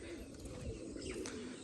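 Pigeons coo softly near a mosque in a short, low, steady burst of cooing that sits under faint background hum, with no voices in between.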